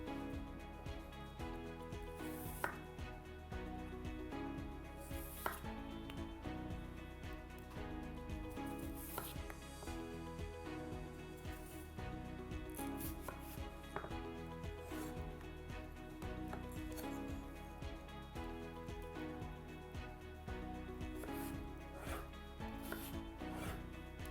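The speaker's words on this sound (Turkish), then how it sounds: "Şimdi patatesimizi de doğrayalım." Steady, rapid knife chopping on a board as potatoes are cut, close up and continuous, a brief clatter now and then, no voices.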